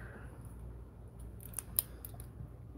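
Scissors snip through card, a few quiet crisp cuts close by over a low steady background hum, heard with no talking.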